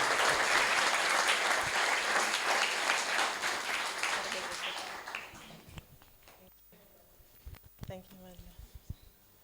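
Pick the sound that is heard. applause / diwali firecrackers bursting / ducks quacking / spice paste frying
applause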